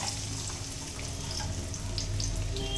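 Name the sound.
sliced onions frying in hot oil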